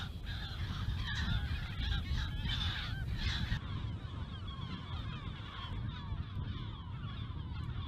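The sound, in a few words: seagull colony calling, Ria Formosa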